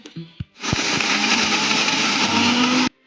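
A kitchen mixer grinder whirs loudly and steadily for a couple of seconds as it blends passion fruit into chutney, after a few soft clicks and knocks, then cuts off abruptly.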